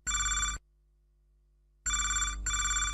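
A telephone ringing on a radio phone-in show: two bursts of bright electronic trilling ring, clear and close, separated by a short silence.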